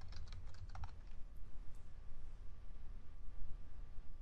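Quick keyboard typing on a computer while entering PL/SQL code, a short cluster of light key clicks near the start before settling into a low steady hum.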